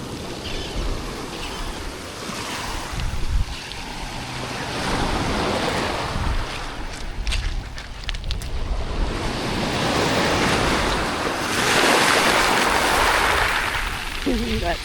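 Waves wash in and draw back over a pebbly beach on Block Island, rising and falling in surges, with wind buffeting the microphone and faint voices in the background.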